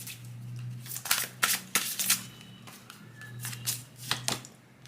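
Tarot cards being shuffled and drawn by hand, a string of crisp riffling flutters and soft slaps in irregular bursts over a low constant hum.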